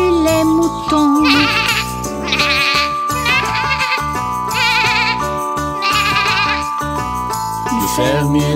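Sheep bleat in quavering, wavering cries, several times in a row, over a bouncy children's tune with singing.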